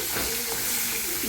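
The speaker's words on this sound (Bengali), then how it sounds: "এই দেখো, মাছের মাথাটা আগে ভেজে নিচ্ছে" A fish head fries in a pan with oil, making a close, steady sizzle and hiss over a short stretch.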